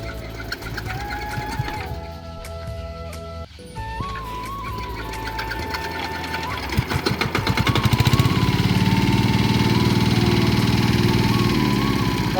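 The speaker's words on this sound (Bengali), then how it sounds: "অবশেষে মেশিন স্টার্ট নিল। দেখ মেশিন ভালো বোঝা যাচ্ছে, মেশিন ভালোই আছে।" An irrigation water pump engine cranks, sputters, then catches and settles into a steady, rapid mechanical chugging that grows louder and holds, close by, with a faint whine in the background.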